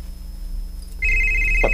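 A cellphone starts ringing partway through, a loud steady electronic tone over low room hum, with no talk.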